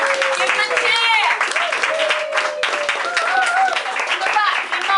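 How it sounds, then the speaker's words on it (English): Audience at a Paris Lit Up literary open-mic event cheering and applauding steadily as a humor writer is called to the stage, loud and continuous crowd noise with whoops and shouts throughout. "Give him a cheer!"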